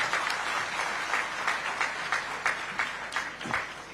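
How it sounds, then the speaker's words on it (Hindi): Fairly quiet audience applause welcoming the chief minister at a gathering in Raipur, with individual claps faintly distinguishable in an uneven rhythm. "जोरदार ताली के साथ आप मन अभिनंदन करो।"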